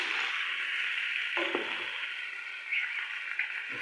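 Ginger garlic paste being stirred into sizzling mixed vegetables and tomatoes in a hot pan for an aloo matar gajar curry: steady close frying hiss with a few spoon scrapes and knocks, no talking.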